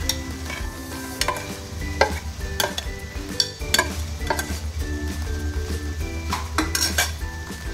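Poha tipped into a hot pan and stirred, with a spoon clinking and scraping against the metal over a steady sizzle, repeated sharp strikes ringing out close and clear with no talking.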